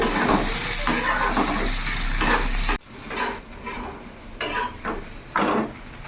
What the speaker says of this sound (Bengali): ততক্ষণ আমার এখানে পেঁয়াজটা ভাজা হোক।